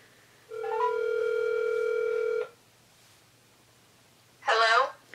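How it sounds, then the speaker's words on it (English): A telephone dial tone sounds on a phone call, a steady two-second tone, followed after a pause by a short burst of ringing or ringback, fairly faint and clear. "Okay, it's dialing."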